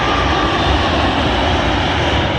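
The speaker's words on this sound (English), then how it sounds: "Arriving in now is a Royal Jordanian flight working a service from Amman to London Heathrow" A Royal Jordanian Boeing 787 arriving at London Heathrow runway 27L, its engines giving a steady, loud broadband roar that holds evenly throughout, close by with no talk.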